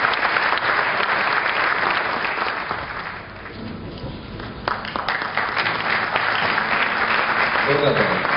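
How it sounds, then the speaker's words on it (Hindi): Loud applause fills a hall at a theatre festival award ceremony. The crowd claps densely, then eases briefly before swelling again, and a voice speaks over the clapping near the end. "इनके लिए भी मैं चाहूंगा जोरदार तालियां।"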